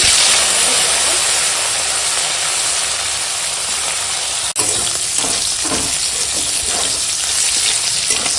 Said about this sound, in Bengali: এখন এই ভেন্ডি ভেজে নেব ওই মাছ ভাজার তেলেই।